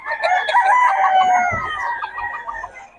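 A Boston Sunlight bloodline gamefowl rooster crows once, a loud, close, drawn-out call lasting about a second and a half, followed by softer clucking and faint background noise.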